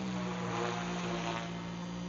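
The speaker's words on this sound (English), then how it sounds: "I'm flying it just like a regular helicopter" A FlyWing FW450 V3 collective-pitch RC helicopter flies close by, its rotor and motor giving a loud, steady, buzzing whine with a constant drone that holds evenly throughout.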